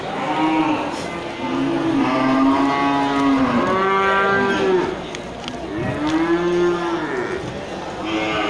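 Several loud, drawn-out moos from Aceh cattle one after another, close by, with brief pauses between calls.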